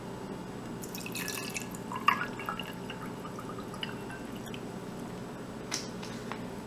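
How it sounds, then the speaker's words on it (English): Water trickles and drips into a jar holding an oil lamp mixture of herbs and fenugreek, quiet close splashes and drips with a few sharper plinks. "what you can do is place some water in"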